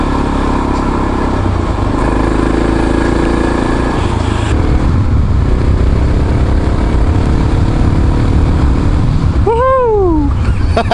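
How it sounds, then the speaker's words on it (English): A Kawasaki KLR 650 dual-sport motorcycle rides a slippery dirt track in Chichester State Forest, its single-cylinder engine droning steadily and close for the whole stretch, with a rising and falling whine near the end. "This is Charles Spadowski on the KLR 650."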